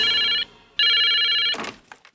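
Telephone ringing with two electronic bursts, a short one and then a longer one after a brief pause, loud and close, followed by a clatter as the handset is picked up.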